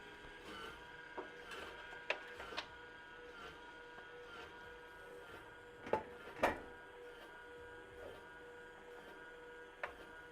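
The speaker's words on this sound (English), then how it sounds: "When you hear that kind of scraping noise, you more than likely have a loose drum." A Skywalker V1 coffee roaster with a loose drum runs with a quiet mechanical whir broken by intermittent scraping and knocking bursts, several louder scrapes clustered in the middle.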